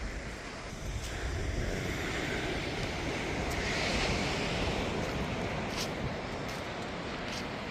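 Ocean surf washing onto the beach at San Onofre, Camp Pendleton, a continuous broad roar of breaking waves with wind buffeting the microphone, no talk.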